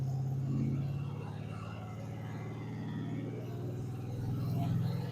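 An abandoned Pontiac car pulls away in first gear, its engine a steady low rumble with slight rises as it labours along, moderately loud and continuous; a person talks over it at times.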